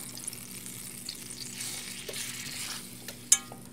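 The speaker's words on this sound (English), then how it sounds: "we're going to add our flour and stir it up" Flour being stirred into melted vegan butter in a pan to start a roux, giving a soft steady sizzle with light stirring scrapes and a sharp clink of a utensil near the end, with no talking.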